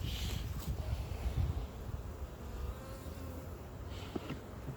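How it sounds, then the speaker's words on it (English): Honeybees hum during a late-February beehive inspection, a low, continuous buzz that holds steady and fairly faint throughout, with no one speaking over it. "See why I like Velishka's bees?"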